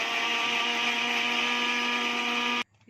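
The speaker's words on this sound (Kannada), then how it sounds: "ಸಕ್ಕರೆ ಸ್ವಲ್ಪ ರುಬ್ಕೊತೀನಿ ಇದನ್ನು" A kitchen mixer grinder whirs steadily at high speed, grinding muskmelon with sugar for juice, a loud continuous motor drone that cuts off abruptly at the end.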